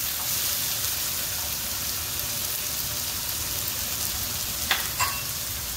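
Crushed garlic and ginger sizzle with onions and green chilies in a pan for a beef bone curry, a dense continuous frying hiss with a couple of brief stirring scrapes toward the end.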